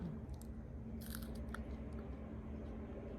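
Raw radish pods are bitten and chewed up close, giving a few crisp crunches and moist chewing sounds over a quiet background hum.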